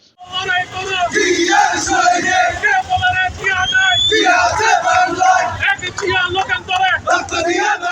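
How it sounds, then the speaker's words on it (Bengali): Supporters of Jubo Dal, the Kotwali thana unit in Chittagong city, march in a large procession. Their loud, continuous rhythmic chanting carries through a dense crowd and goes on unbroken. "চট্টগ্রাম নগরীর কোতোয়ালি থানা যুবদলের উদ্যোগে বিশাল একটি মিছিল বের হয়"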